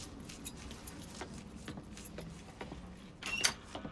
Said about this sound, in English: Keys are in the other room. Grab them so we can get the hell out of here.